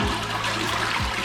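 A modern Western toilet in an apartment in Ho Chi Minh City, Vietnam, flushes with a loud, steady rush of water, close up and with no voices.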